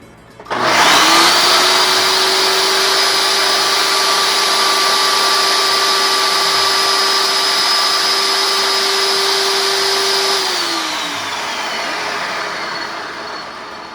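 A food processor chopping ingredients for a yogurt-feta dip: a loud, steady motor whine starts abruptly, runs evenly for about ten seconds, then winds down slightly and keeps humming, with no talk.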